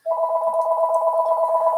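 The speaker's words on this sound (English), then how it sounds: "my phone keeps ringing. I wish it would stop." A phone rings with a steady, close electronic tone held for nearly two seconds, alone with no voices.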